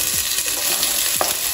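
Onion, garlic and ginger fry in preheated oil, a constant close sizzle with brief stirring scrapes, loud and alone.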